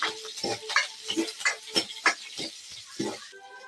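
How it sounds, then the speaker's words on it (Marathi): Green chillies frying in a pan after onions for tomato chutney, with quick repeated stirring scrapes and clicks over a light sizzle, close and fairly loud. "आता त्यात आपण मिरची टाकूया। मिरची चांगली तळून घेऊ।"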